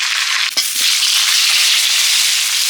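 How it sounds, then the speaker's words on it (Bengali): Freshly dug new potatoes fry in hot oil in a pan, a loud, dense, continuous sizzle close by, with a brief stir or clatter near the start and no talking. "আলুগুলো ভেজে নিচ্ছি"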